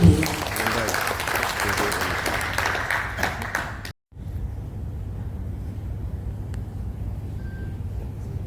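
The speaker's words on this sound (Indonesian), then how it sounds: "Boleh kita sambut dengan tepuk tangan yang meriah." Audience applause at a regional association assembly in Papua, a broad steady clatter of many hands for about four seconds before a sudden cut, followed by low hall ambience and faint noise.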